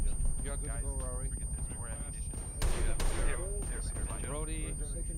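In the video game ArmA, a machine gun lets out a couple of loud, sharp blasts in quick succession under ongoing conversation.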